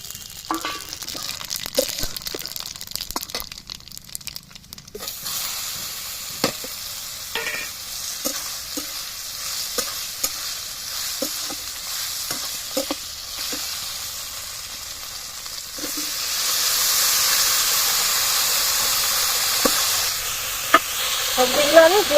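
Bay leaf, dried chilli and spices fry in oil in a pan, a steady hiss and sizzle broken by scattered spoon scrapes and stirring clicks, with the sizzle swelling louder toward the end and no clear speech.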